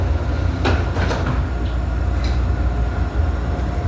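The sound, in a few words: CTA Brown Line train doors closing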